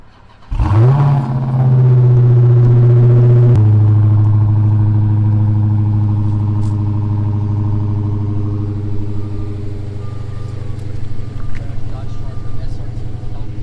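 A crashed Dodge Charger SRT Hellcat Redeye fires up with a sharp burst, then holds a loud, deep, throaty rev before settling into a rumbling idle, heard close by.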